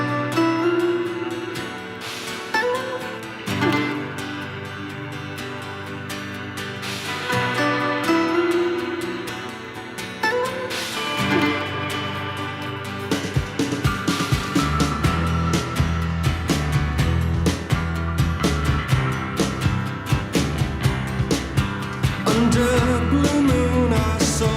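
A song plays as a recording, starting with a moody, sustained instrumental intro, then a full band with steady drums and strummed guitars building in loudness, with no talking over it.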